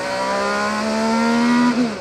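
Race car at the Detroit Grand Prix accelerating, its engine note climbing in a loud, close rising whine before briefly dipping at a gear change near the end.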